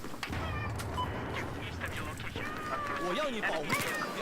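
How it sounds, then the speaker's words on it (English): A cat meows a few times close by over a steady background hum, with a person's voice nearby. "You wanna come up to the microphone and meow into it so everybody knows where you are?"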